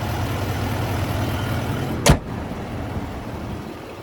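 A 2025 Chevy Silverado 2500HD LT TrailBoss with its 6.6 V8 turbo diesel idles in a steady, low rumble, broken midway by a single sharp clunk, with no voices.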